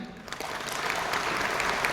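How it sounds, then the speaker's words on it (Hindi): A crowd claps steadily and continuously, a dense patter of applause filling the whole stretch. "ताली बजा लीजिए"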